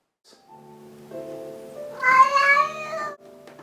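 A house cat named Bootsy or Puss lets out a drawn-out, rising meow, close and fairly loud. Quieter earlier tones come before it, with no talking.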